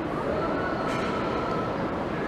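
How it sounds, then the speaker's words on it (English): A Shinkansen bullet train in Nagoya rushes past near a bay, not yet at full speed just after leaving the station, a steady, loud broadband rumble and hiss with a faint tonal whine. "Oh, there's the Shinkansen coming. That's a bullet train."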